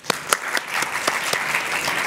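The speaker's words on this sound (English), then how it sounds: "Please applause to them" Brief audience applause for festival panelists, a short spell of scattered clapping from a modest crowd at a moderate, fairly distant level.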